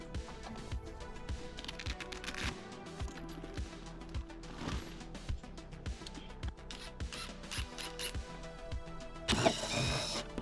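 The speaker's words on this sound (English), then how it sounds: "Power tools make it so much easier" A cordless power tool removing screws from a Honda Ruckus scooter's body covering whirs in short repeated bursts, with clicks and metallic clatter between pulls, ending in a louder harsh rush of noise.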